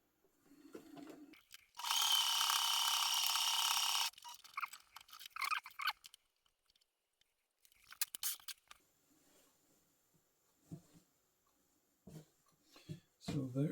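A sewing machine stitches a buttonhole on a child's waistcoat in one loud, steady burst of about two seconds, with quieter handling noises and soft mechanical clicks before and after.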